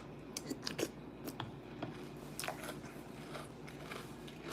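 Cinnamon Toast Crunch cereal being chewed up close, with quiet, irregular crunchy bites and mouth noises in an otherwise calm room at night.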